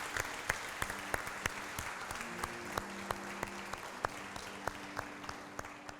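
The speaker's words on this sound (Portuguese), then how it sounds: "Dê um forte aplauso a Jesus." A church congregation applauds during a Portuguese-language service, with sparse, distinct hand claps standing out over a soft wash of clapping and a faint sustained tone from musical accompaniment.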